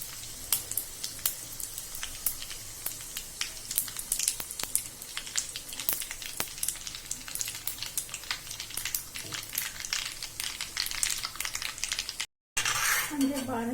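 Mustard, fenugreek and coriander seeds roast in a hot pan, with dense, close crackling pops and light clinks of stirring that run on steadily, broken by a brief silence near the end.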